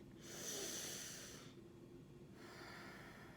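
Two soft exhales out through the nose during a calm guided breathing exercise, close to the microphone but quiet, each a gentle airy rush separated by a brief pause.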